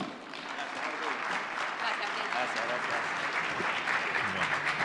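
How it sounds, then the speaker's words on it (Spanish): Conference audience applauding continuously for several seconds, a dense, even wash of clapping from a large crowd with some voices mixed in. "Un fuerte aplauso para ellos."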